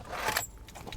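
Keys jangle in a brief, soft metallic rattle during a search for them outdoors in a park, with faint background noise.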